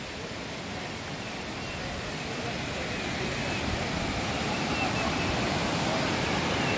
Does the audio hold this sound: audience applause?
no